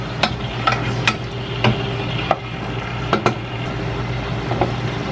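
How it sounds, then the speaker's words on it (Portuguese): Chopped onion and garlic sauté in a hot pan with a steady sizzle, punctuated by regular clicks and scrapes as a utensil stirs them. "eu coloquei um pouco de cebola e alho, tá bom? Só pra dar uma refogada."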